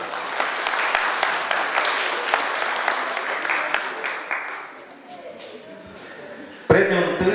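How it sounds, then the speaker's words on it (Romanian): A festival audience applauds during an awards ceremony for a folk customs and traditions event, steady clapping that thins out and fades near the end before a sharp new burst of noise. "Vă rog să aplaudați."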